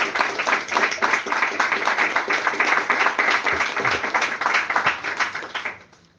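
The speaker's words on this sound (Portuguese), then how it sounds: "pode aplaudir" Congregation in a church breaks into sustained applause, dense rapid clapping filling the room for about six seconds before tapering off at the end.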